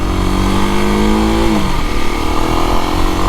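A Kawasaki KLX 250 dual-sport motorcycle engine pulls loudly and steadily under acceleration, the pitch rising through a gear, then dropping at a shift, over constant road and wind noise.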